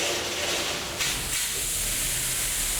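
Sprinkler nozzle spraying solution down onto a grease fire on a stove, a loud, continuous broadband hiss and rush of spray throughout, with no voices.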